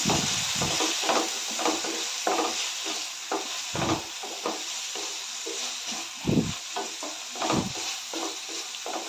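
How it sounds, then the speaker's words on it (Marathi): Soaked chana dal sautéed in hot oil in a pan for ridge gourd curry, with a steady sizzle and repeated scraping stirs of the spoon, close and continuous with no voices. "डाळ घालून एक दोन मिनटं परतून घेऊया"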